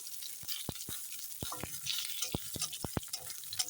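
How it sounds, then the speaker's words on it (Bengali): Dried red chillies, two bay leaves and whole cumin seeds sizzle in hot oil left in a pan after frying potatoes, a steady close crackle broken by sharp clinks of a spatula stirring. "একই তেলে শুকনো লঙ্কা দুটো তেজপাতা আর দিয়ে দিচ্ছি গোটা জিরে ফোড়ন"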